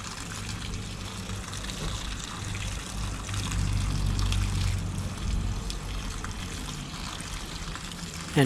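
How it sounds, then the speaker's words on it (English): Running water pours and splashes steadily while a K&N air filter is rinsed clean, a continuous close trickle that swells briefly in the middle. "Just keep on rinsing it out."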